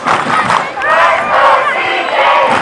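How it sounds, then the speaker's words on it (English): Crowd of fans at a 2012 Missouri girls' high school soccer state championship match, Cor Jesu Academy against Lee's Summit, chanting "Let's go, CJ" in a loud, steady, continuous roar of many voices with rhythmic swells. "Fans get a chant in the crowd going"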